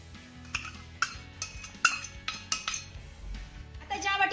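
Several close metallic clinks and scrapes of a spoon against a steel bowl, irregular and fairly quiet, as thick carrot paste is scooped out.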